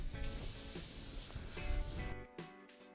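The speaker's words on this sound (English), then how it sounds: "So I'm gonna go ahead and rinse this." A hot cast iron skillet is rinsed with water, giving a loud, close, steady steaming sizzle and hiss for about two seconds before it cuts off, followed by a short fainter spatter.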